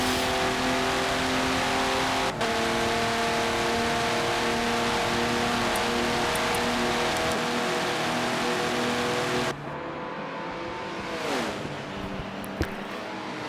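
Prototype race cars at Daytona in a racing video game, a loud sustained engine drone at high speed that holds steady, then drops sharply with a quick pitch shift as cars pass, no talk.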